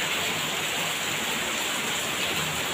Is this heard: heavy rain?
yes